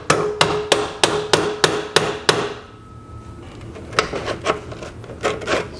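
Seven sharp, evenly spaced taps seat a handle onto an Oliver 6301 benchtop edge sander. A brief pause follows, then a few softer rubbing knocks, close and clear, with no voices.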